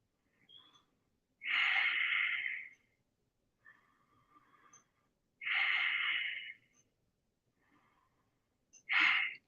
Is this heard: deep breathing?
yes